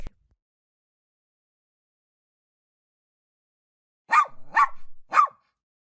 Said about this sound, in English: while Timmy was at the park, he heard a bark